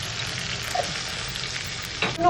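A paste of garlic, ginger, green chili and tomato sizzles steadily in a hot pan for an egg curry, a dense broadband hiss with a brief splattering surge near the end.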